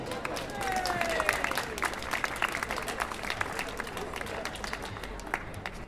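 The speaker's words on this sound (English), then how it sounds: "So come on, give him a round of applause." A crowd applauds at an outdoor Save Our NHS rally in Nottingham, steady scattered clapping heard at a distance with faint background chatter and a few whistles.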